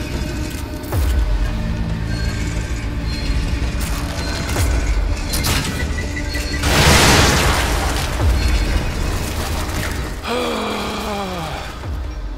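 Bombs go off in the horror video game The Evil Within, heavy booming blasts and rumbling with mechanical clanks and a creature groan, loud and close, no voice over them.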